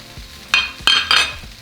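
Tomatoes hit hot oil in a pan with sautéed Anaheim pepper and onion, giving three short bursts of sizzling between quieter stirring and clinks, close and alone.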